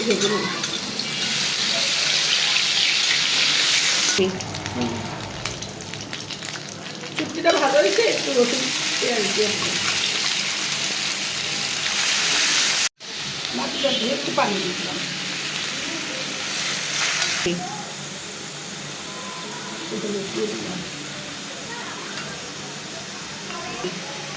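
Dried fish sizzles and spits in hot oil in a heated wok, a loud continuous frying hiss with stirring scrapes, briefly cut off and then resuming, with occasional voices in the background.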